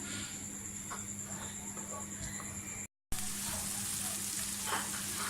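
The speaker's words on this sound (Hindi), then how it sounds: "प्याज हमारा जो है वो फ्राई हो रहा है।" Onions frying in a pan for a chicken qeema dish, giving a steady close sizzle and crackle with a faint high whine, briefly cut off by a gap of silence before the sizzling resumes.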